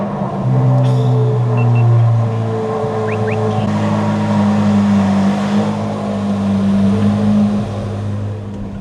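A Corvette C8 Z06 fitted with a Soler throttle body starts up close by: a loud, steady, deep engine drone with tonal hum and slight swells, no talking.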